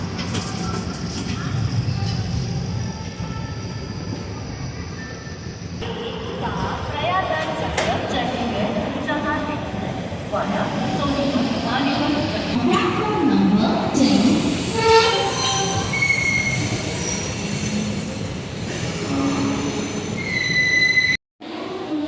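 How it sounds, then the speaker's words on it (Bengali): Train wheels squeal loudly and steadily as the Ranikhet Express (15014) from Kathgodam pulls into Delhi Junction, with a rumbling carriage and station clatter beneath, voices talking in the background, and a brief drop-out near the end. "আমরা এসে পৌঁছালাম ভারতের রাজধানী দিল্লি জংশনে"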